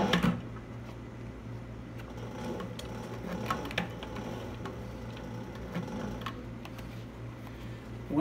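Sewing machine stitching a cap, a quiet continuous mechanical whirr with fine rapid ticking, fairly close and steady throughout.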